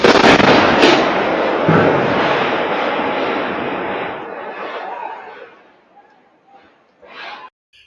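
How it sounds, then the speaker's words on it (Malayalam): A factory boiler explodes in Kasaragod, caught on CCTV. A sudden loud blast gives way to a roaring rumble that fades over several seconds, followed by faint scattered sounds. "സ്ഫോടനം പരിസര പ്രദേശത്തുൾപ്പെടെ പ്രകമ്പനം സൃഷ്ടിക്കുന്ന CCTV ദൃശ്യങ്ങൾ പുറത്തു വന്നിട്ടുണ്ട്"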